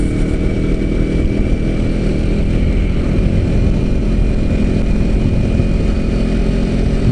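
Kawasaki Ninja 250 motorcycle underway on a ride, its engine a steady, loud, continuous drone mixed with heavy wind rumble, no voices over it.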